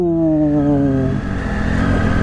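Motorcycle riding on a rough, muddy, damaged mountain road near the China border in Uttarakhand's Niti valley, a close engine note rising then dropping into a broad rumble as the bike slips.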